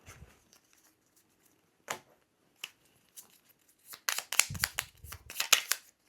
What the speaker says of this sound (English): let's shuffle up Gary's tiles.